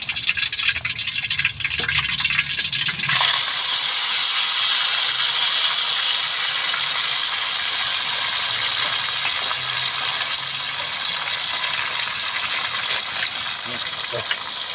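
Grasshoppers drop into hot oil and a loud, steady sizzling hiss starts, continuing strongly and evenly with faint clatter in the background.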